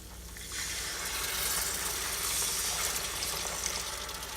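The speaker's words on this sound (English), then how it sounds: "we are gonna add in 1 cup of water" A cup of water is poured into simmering Ethiopian doro wat chicken stew, a steady close hiss and splash of liquid meeting the hot pot, lasting a few seconds.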